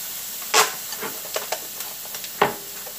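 Vegan taco filling frying in a skillet, giving a constant close-up sizzle broken by a few scraping stirs and clicks.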